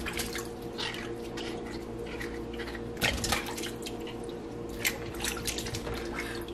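Celery sticks being washed under running water at a sink, with a steady faucet flow, drips and wet squishing handled close up throughout, and no talking.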